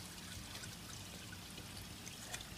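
Water pours and trickles steadily from a pipe into an urban hydroponic garden system, a faint, continuous, even stream with no talking.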